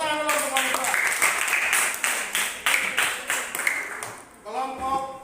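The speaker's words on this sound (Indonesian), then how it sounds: "Tepuk tangan dulu untuk kelompok" Classroom applause for a student group after grading, scattered rhythmic clapping from pupils mixed with voices and some talking, moderately near and fairly faint.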